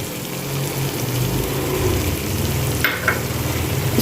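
Pasta masala with chili garlic ketchup and dried coriander is stirred in a hot pan, giving a steady close sizzle with soft scraping and a couple of brief clinks near the end, with no talking.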